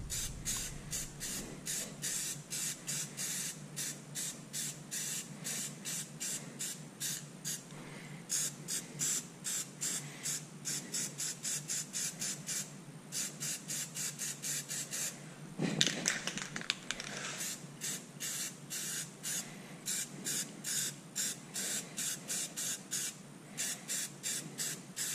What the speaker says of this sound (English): So we're going to briefly paint those real quick before we put this hitch on.